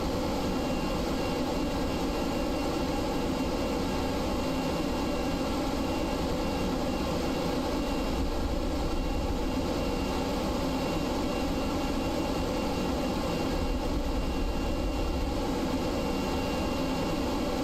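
Jet aircraft engine from the Kerbal Space Program video game, including afterburners during a landing approach, gives a steady, loud broadband roar with constant rumble that holds throughout with no talking.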